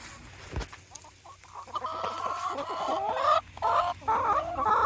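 Chickens cluck and murmur continuously nearby, a busy overlapping chatter of hens with a soft thump near the start.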